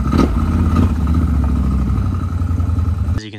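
A Can-Am Renegade 1000 XXC ATV engine runs steadily at close range after repair, a loud continuous idle with a low throbbing rumble and mechanical clatter, cutting off near the end.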